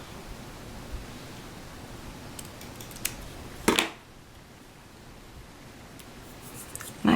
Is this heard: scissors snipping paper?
yes